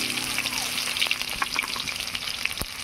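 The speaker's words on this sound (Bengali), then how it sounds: "এবারে দিয়ে দিচ্ছি পেঁয়াজ কুচি" Chopped onions hissing in hot mustard oil tempered with dried red chillies and kalonji, a steady close sizzle with a few stirring clicks and one sharp tap near the end.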